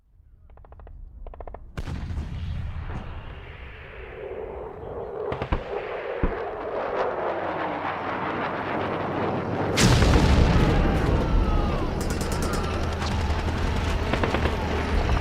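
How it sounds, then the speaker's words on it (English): Radio drama sound effects of tanks and explosions: sharp blasts and booming detonations burst out over rumbling battle noise, growing denser and louder, with a huge crash near the middle and no speech. "The tanks! The tanks are coming!"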